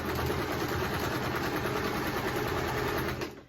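Sewing machine stitching fabric at a beginners' workshop, a steady fast mechanical whir and rapid needle chatter running continuously before trailing off at the end.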